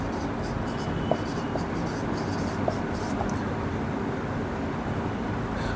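Marker or chalk scratching on a board during a lecture on aerodynamic load factor, with soft intermittent strokes and small taps over a steady background hum, faint and close.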